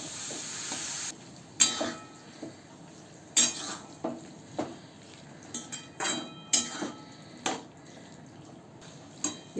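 Stirring chickpeas and yogurt together in a cooking pot, with soft scraping and wet squelching strokes. Sharp clinks of a spoon against the pot rim come every second or so, close and fairly quiet, with no talking.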